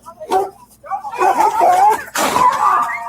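A dog in police footage barks and yelps in several loud bursts, with people talking and calling over and between the barks.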